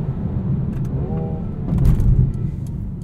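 A 2020 Mercedes-AMG A35 sedan's engine while driving, a low steady rumble from inside the cabin that swells briefly as it pulls, with faint clicks and no talking.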